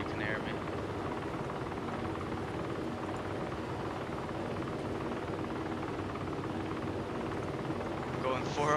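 Helicopter flying over the map in the video game DayZ Lingor, a steady loud rotor and engine drone that holds throughout, with talk running underneath.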